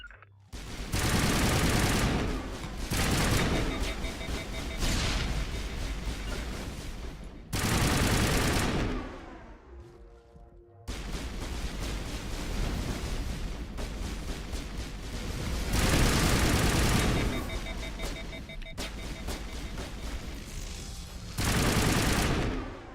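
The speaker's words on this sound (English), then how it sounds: "So my gun is very powerful now, but it heats up so fast." Bursts of heavy, powerful gunfire from a weapon in the video game Mass Effect Legendary on Feros, loud sustained volleys broken by short pauses, no talking.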